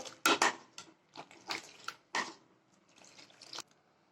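Mixture poured into milk for homemade yogurt: close, uneven splashes and liquid plops against a metal pot, with scattered clinks of a utensil between pours, no voices.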